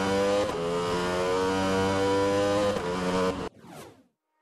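A Ducati Panigale V4R motorcycle engine in RiMS Racing revs loudly and steadily at high pitch for several seconds, then cuts off abruptly with a brief fading tail.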